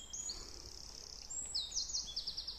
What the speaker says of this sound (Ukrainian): Як заливається пташечка.